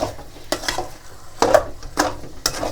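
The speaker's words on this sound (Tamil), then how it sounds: "எண்ணெய் தொடர்ந்து கிண்டிக்கொண்டே இருக்கணும்" Thick, sticky thothal sweet is stirred continuously in a pan, a few sharp scraping strokes spaced about half a second apart over a quiet background of low sizzle, no voices.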